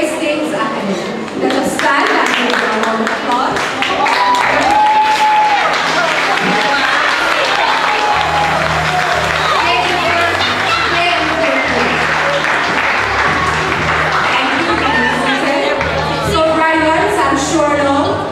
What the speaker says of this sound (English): Let us stand and give a round of applause.